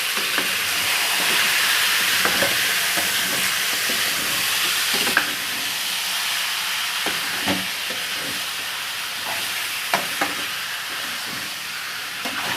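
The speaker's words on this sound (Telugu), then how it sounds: "ఇప్పుడు చికెన్ కూడా వేసేసుకుందామండి. ఇప్పుడు మొత్తం ఇలాగా కలుపుకుందామండి." A pan of chicken curry with ginger paste sizzles and hisses steadily while a utensil stirs it, with occasional scraping knocks against the pan over the constant frying.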